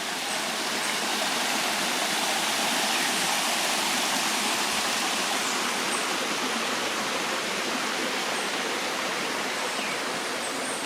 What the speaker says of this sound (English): I did want to stop over here to show you guys this waterfall